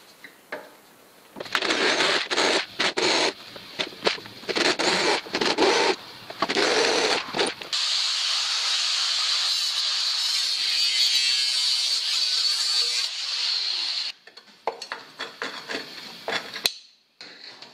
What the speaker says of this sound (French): Donc j'enlève les points de soudure, il y en a 4-5.